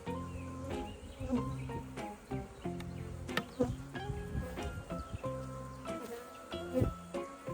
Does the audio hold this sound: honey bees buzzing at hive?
yes